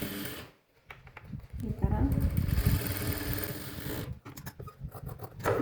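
A sewing machine stitches a semi-high-neck blouse, its steady mechanical whirring running close and continuous under a talking voice, with a brief pause near the start.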